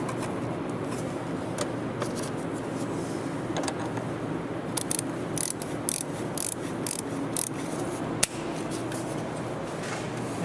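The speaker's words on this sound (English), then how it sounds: "we're using 10mm socket, and we'll use the torque wrench" A socket wrench ratchets in quick clicking bursts while tightening the nut on a Volvo's 12V battery terminal, a close mechanical clatter broken by short pauses and a sharp click.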